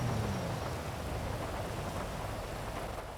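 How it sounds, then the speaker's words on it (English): Heavy rain pours steadily and loudly throughout, a dense continuous wash with a low rumble underneath, no voices present, in a roleplay game scene. "The rain's really loud."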